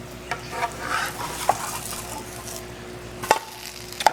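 An egg and cheese quesadilla cooks over low heat in a pan, giving a soft continuous sizzle broken by a few sharp utensil clicks against the pan, with no talking.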